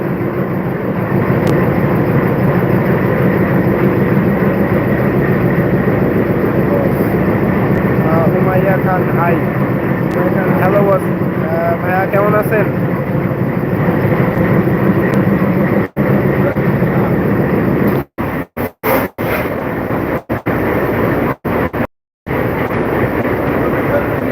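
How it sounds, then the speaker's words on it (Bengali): The Sagardari Express, train number 716, passes Darshana halt station, making a loud, steady rumbling roar that holds for most of the span before breaking into choppy dropouts near the end. "চন্দ্রনগর সাতশো ষোলো সাগরদারি এক্সপ্রেস ট্রেনটি"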